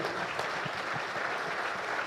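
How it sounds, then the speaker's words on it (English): Steady, dense audience applause fills the room after a conference panel at an investment summit, loud and continuous without any talk over it. "please give a big round of applause to our first panel of the day"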